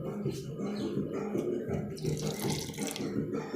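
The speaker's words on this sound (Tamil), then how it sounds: "இந்த ஸ்டேஜில் கொஞ்சம் தண்ணி ஊற்றிக்கலாம்" Water pours steadily into a blender jar of ground mango for juice, a continuous close splashing trickle that runs for the whole few seconds.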